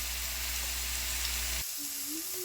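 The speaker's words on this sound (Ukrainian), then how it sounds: "На розігріту сковорідку викладаю гриби і смажу до випаровування вологи." Mushrooms sizzle and crackle in a hot pan, a steady frying hiss that shifts partway through as they are stirred or moved.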